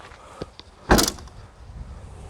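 A Honda CR-V 2.0 i-VTEC tailgate swings shut with a single solid thud, followed by a brief rattle and faint background noise.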